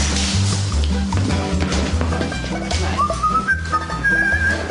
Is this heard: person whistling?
yes